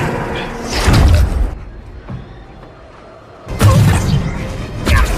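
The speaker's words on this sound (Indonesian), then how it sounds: "mobilnya mengenai ranjau hingga meledak dan tak bisa lagi dipergunakan" A car in an action film strikes a landmine and explodes, giving a loud booming blast, a quieter rumbling lull, then a second heavy burst of crashing noise at close range.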